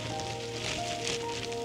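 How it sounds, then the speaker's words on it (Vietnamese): Heavy rain falls in a mossy New Zealand forest near Franz Josef, a dense steady hiss of drops on leaves and surfaces, fairly faint and unbroken, with a few thin bird-like tones threading through and no talk. "Giờ thì vẫn còn mưa rất là to"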